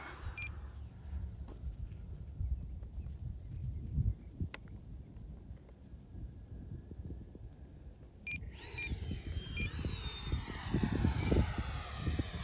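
An FMS Integral 80mm electric ducted-fan RC jet flies low over a field, making a continuous rushing whine that rises in pitch and gets louder near the end as it passes close.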